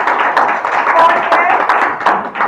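A room full of course participants applauds together, a dense, steady patter of clapping close by, with a voice speaking briefly over it.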